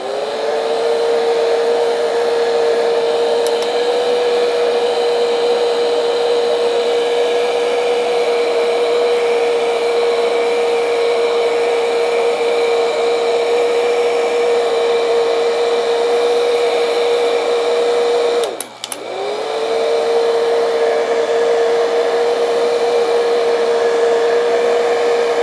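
Heat gun blowing hot air over a cable, a loud steady whirring roar with a constant tone that holds for the whole span, dipping briefly once near the end before resuming, with no voices.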